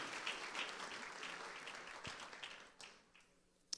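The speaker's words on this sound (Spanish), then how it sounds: "Démosle un aplauso al Señor" Congregation at a national church family convention applauding, fairly quiet clapping from many hands that tapers off, with a few isolated claps and taps near the end.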